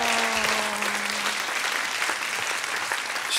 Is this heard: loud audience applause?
yes